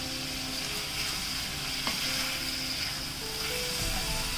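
Apples cooking with sugar in a pan over a low flame for an apple tart filling make a soft, steady sizzle with faint stirring, close and continuous.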